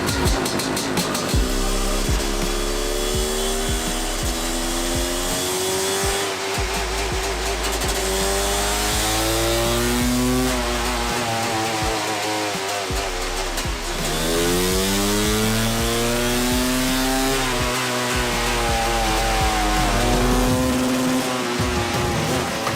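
A 700cc dirt bike engine with factory-level upgrades runs loud and close on a dyno, revving in repeated rising and falling sweeps with brief dips between bursts, and no voices.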